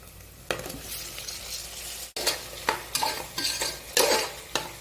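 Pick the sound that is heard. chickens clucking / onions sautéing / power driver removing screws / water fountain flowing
onions sautéing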